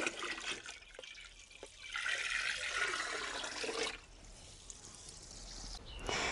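Water pours steadily into a large 200-litre drum on a farm field, a loud continuous gushing rush with a trickling, splashing texture that shifts tone as the container fills.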